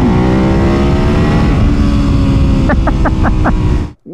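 A Ducati 1098 sportbike engine revs loud and close, a steady high-RPM roar with a quick series of throttle blips near the end before the sound cuts out abruptly.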